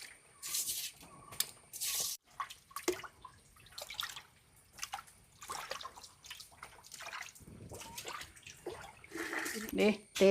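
Karimeen fish, Kerala pearl spot from Vaikom backwaters, being rubbed and washed in water, intermittent splashing and trickling with faint hand scrubbing, under a voice speaking quietly.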